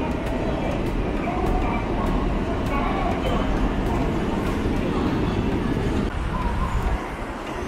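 Train rumble in the Yokohama area of greater Tokyo, a steady loud roar of a moving carriage with muffled voices underneath throughout.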